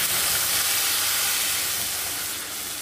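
Ground spice paste hits hot oil for an egg curry and sizzles loudly in a steady, bright hiss that stays strong throughout and eases slightly at the end.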